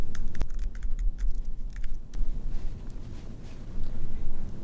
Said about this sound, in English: You type in your library card number.